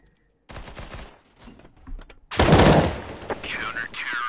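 Bursts of rapid gunfire in Counter-Strike: Global Offensive during an online esports tournament match crackle and rattle in quick volleys, growing louder and denser toward the end, with faint voices underneath.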